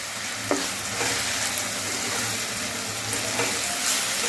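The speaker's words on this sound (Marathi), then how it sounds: "यामध्ये आता आपण डाळीचं पीठ घालून द्यायचं आहे ते एकसारखं हलवायचं आहे" Gram flour stirred into melted jaggery in a pan, a steady broad hiss with a few soft knocks and scrapes of the spoon, close and without voices.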